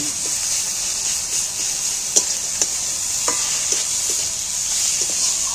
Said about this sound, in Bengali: রসুনটা নাড়াচাড়া করে ভাজা ভাজা সেন্ট উঠে গেলেই